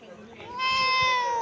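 A cat gives one drawn-out, tonal meow close by that swells and holds, following a moment of quieter household background.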